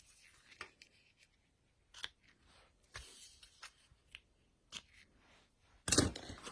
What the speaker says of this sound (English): now I'm going to go ahead and cut this